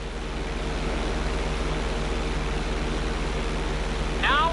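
A plane engine drones steadily during a roll in GTA 5, a constant close hum that carries on alone, with a brief whooshing rise near the end.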